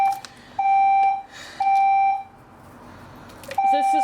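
Fire alarm in a large building sounds repeated loud, steady electronic tones, each lasting about half a second to a second with short gaps, heard up close indoors.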